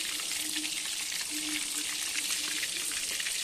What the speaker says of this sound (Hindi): तो हमने मछली को बहुत ज़्यादा हाई फ्लेम पे नहीं फ्राई करना है।